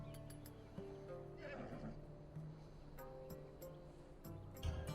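A horse in Assassin's Creed Odyssey whinnies, with hoof clip-clop mixed into steady game ambience and a louder burst near the end.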